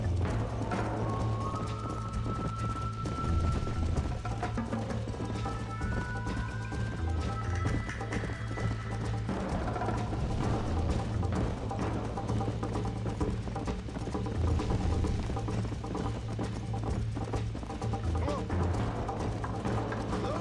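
Horse galloping in the video game Red Dead Redemption, steady rapid hoofbeats running continuously under game music tones, a brief whinny-like sound early on, no talking.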